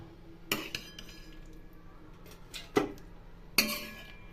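Utensils clink sharply against a pot as cooked hilsa fish curry is lifted into another vessel, three distinct metallic taps spaced apart over a quiet kitchen background.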